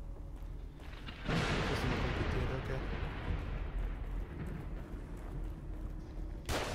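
Enemy gunfire in The Evil Within: a heavy, rumbling burst breaks out after a quiet start and roars for about three seconds, then settles into a lower din before another sharp onset at the very end.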